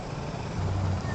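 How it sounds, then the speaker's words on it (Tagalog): Steady road traffic rumble with a low, droning engine tone that swells slightly near the end, heard from a Honda ADV160 scooter, with no clear voices over it. "Traffic."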